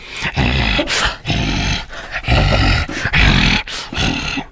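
Deep, demon-like growls come in a series of loud, rough bursts separated by short pauses, close and harsh, with no talking.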